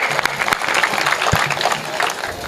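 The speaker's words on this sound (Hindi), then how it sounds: "एक बार तालियां बजाइए" Audience applause at a Hindi comic poetry gathering (hasya kavi sammelan), a steady wash of clapping from a live crowd for a couple of seconds with a few sharper individual claps standing out.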